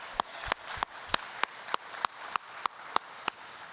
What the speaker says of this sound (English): If we just give them a round of applause.